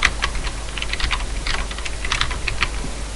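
Quick computer keyboard typing with crisp, close clicks in irregular bursts over a few seconds, heard alone without speech.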